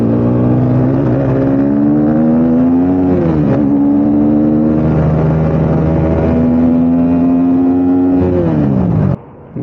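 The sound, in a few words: KTM RC 390 motorcycle engine revving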